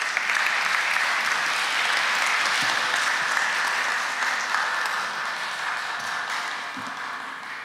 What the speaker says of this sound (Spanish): almirante Jorge Montoya Manrique, a quien recibimos con fuertes palmas.